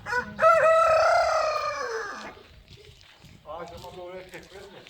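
A rooster crows loudly and close by, followed by softer clucking from chickens, with a voice talking faintly in the background.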